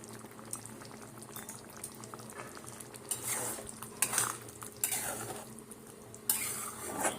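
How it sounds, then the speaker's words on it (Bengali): Chili chicken sauce bubbles and simmers in a pan, a steady close boil with occasional stirring scrapes and utensil clinks growing louder toward the end, no voices. "একটু ফুটতে দেবো। জিনিসটা ফুটছে"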